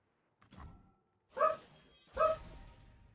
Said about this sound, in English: Tango, what are you barking at?